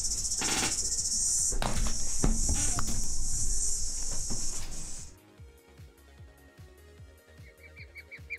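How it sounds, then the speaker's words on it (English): A cicada buzzing at a window, a loud high-pitched drone close by with scraping and knocking mixed in, cutting off abruptly partway through, after which only faint ticking and light clatter remain. "There's a cicada who has decided to land right in my window."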